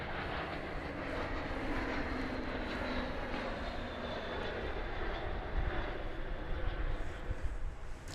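An airplane on a flight from Denver landing at DFW Airport, a steady broadband roar of jet engines and rushing air held at a constant level throughout, fairly distant and with no voices.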